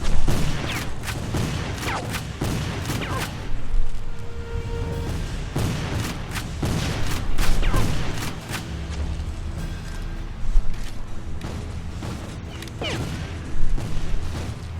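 Continuous gunfire in the video game Civil War Secret Missions, loud overlapping rifle volleys and booming shots in dense bursts throughout, with battle noise beneath.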